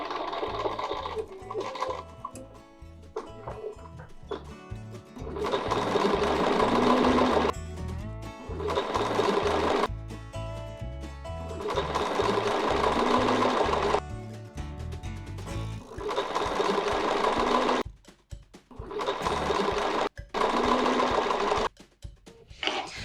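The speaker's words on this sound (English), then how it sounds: "Raise and lower your needle to knot it off, and stitch again." A sewing machine stitches a quilt petal along a template, running in several loud, close bursts of rapid stitching with short pauses between them as the needle is raised and lowered.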